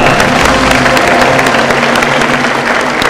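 Sustained, dense applause from a studio audience on a Bhojpuri television quiz show, loud and steady throughout without a break.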